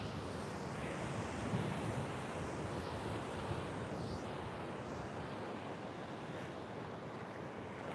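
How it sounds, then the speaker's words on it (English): Waves washing onto a beach with rock pools, a steady soft surf wash mixed with wind buffeting the microphone, continuous and fairly distant, with no voices. "So I just came down to my closest beach."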